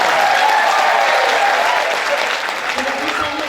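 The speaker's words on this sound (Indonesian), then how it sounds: "Mari tepuk tangan dan berteriak sekali lagi." Applause and cheering rise from a crowd at the opening ceremony of the SSCCF 2023 festival, a loud, dense roar of clapping and shouts that holds steady before easing slightly near the end, with some voices mixed in.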